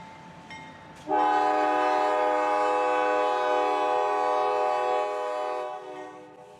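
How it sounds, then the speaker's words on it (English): A loud, sustained K5LH locomotive air horn blasts in a rich multi-tone chord for about five seconds, then fades, with a quieter tone sounding before it. "K5LH air horn, which here's a short clip of what it actually sounds like"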